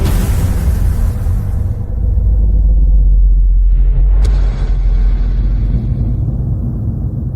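A Ferrari 488 Pista engine roars loud and close, a deep sustained rumble that eases and then settles into a steady low drone, with no talking over it.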